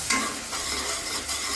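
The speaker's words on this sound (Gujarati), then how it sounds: "ઓકે, આને થોડુંક હલાવું." Paneer masala being stirred in a nonstick pan, a brief close scraping and shuffling under a soft steady sizzle, moderately quiet.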